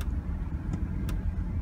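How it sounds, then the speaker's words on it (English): A car in reduced-power limp mode idling with no throttle response, a quiet steady low engine hum with a few faint ticks and no voices. "The car is running, but there's no response to that."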